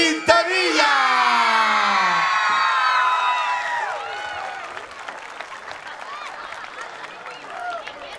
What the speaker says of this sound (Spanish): Recibimos con un aplauso y una ovación